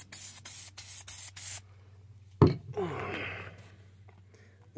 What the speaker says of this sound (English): I'll start with some spray adhesive.